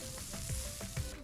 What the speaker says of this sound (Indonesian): Pertama-tama kita panaskan roti yang berukuran jumbo dan beri sedikit margarin atau mentega